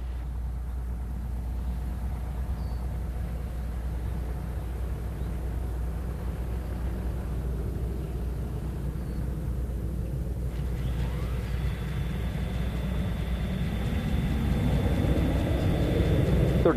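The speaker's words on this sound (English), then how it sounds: "All systems looking good as Discovery comes in for a landing." Space Shuttle Discovery gliding in toward the runway on the STS-121 landing, a steady low rumble that swells gradually with a faint tonal whine rising late.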